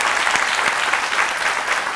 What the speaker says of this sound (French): qu'on lui serve ces vibrants applaudissements